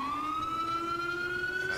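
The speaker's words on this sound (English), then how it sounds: "Siren was good." A police siren in the video game GTA IV with the LCPDFR mod wails in a steady, slowly rising tone, clear and fairly close, with a faint engine hum beneath and no talking.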